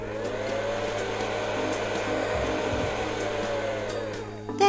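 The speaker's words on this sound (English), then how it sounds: "use the hairdryer on the mouth." A hairdryer in the video game Lucy Dreaming blows with a steady, loud whirring hum that holds evenly for several seconds before a brief louder burst at the end.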